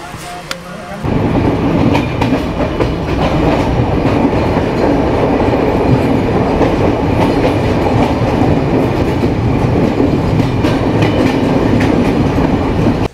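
A moving passenger train rumbles and clatters loudly and steadily from about a second in, the wheel noise continuous and close, as if heard from inside a carriage.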